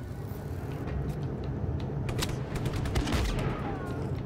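Machine gun fire in Just Cause 3, a dense continuous clatter of rapid shots with sharper cracks rising near the end, loud and close against constant engine-like rumble.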